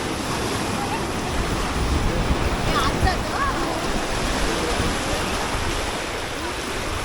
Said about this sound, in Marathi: हे आहेत आपल्या कोकणातले खरे समुद्रकिनारे.